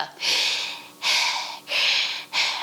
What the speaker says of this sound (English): almost like we're panting